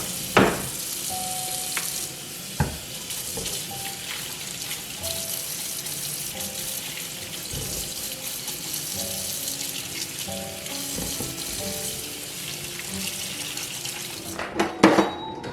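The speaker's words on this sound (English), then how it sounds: "we're gonna really scrub and wash" Organic lemons are scrubbed and washed under running tap water at a sink, producing a continuous hissing stream close by, with occasional splashes and handling knocks and a louder clatter near the end, no talking.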